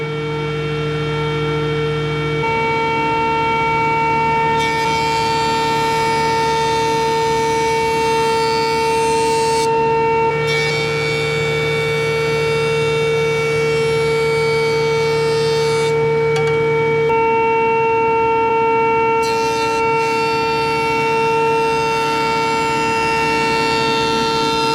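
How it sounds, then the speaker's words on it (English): Grizzly G0855 8-inch jointer running steadily with a dust collector hooked up, a loud sustained motor whine and cutterhead hum lasting the whole stretch, with slight shifts in the drone as wood passes over it; no talking. "at this point I'll be quiet for a minute so you can hear the joiner"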